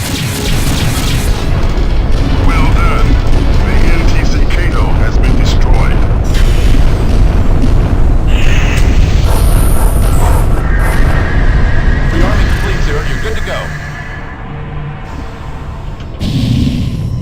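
The NTC Kato starship explodes in the FreeSpace 2 space combat game with a loud, sustained roaring blast and crackling debris rumble that holds for many seconds before easing near the end.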